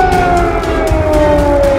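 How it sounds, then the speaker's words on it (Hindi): An emergency siren wails steadily and loudly over Kyiv during Russian bombing, a sustained slowly falling tone with a rhythmic pulsing overlay and dense low rumble underneath. "कीव में इमरजेंसी सायरन की आवाज"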